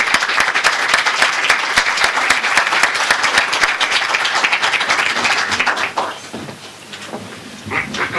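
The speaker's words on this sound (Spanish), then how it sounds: "Y yo los aplaudo." Loud, dense applause from an audience at a debate tournament, steady for about six seconds, then thinning into scattered claps and crowd murmur before swelling briefly again.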